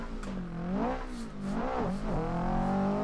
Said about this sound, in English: Fourth gear, full throttle.